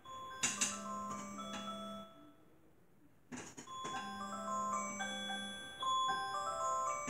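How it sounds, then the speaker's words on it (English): A phone alarm ringing indoors: a faint electronic chime melody of tonal notes, pausing briefly and then repeating, with no talking. "That was my alarm letting me know it's time for me to get off."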